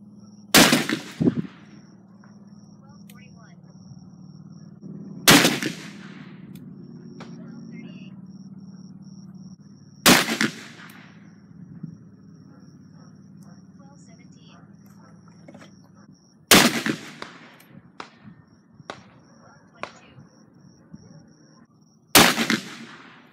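Five loud, sharp .44 Magnum revolver shots from a Smith & Wesson 29 with a 6.5 inch barrel, fired at even intervals of about five seconds with faint handling noise and a low background hum between them.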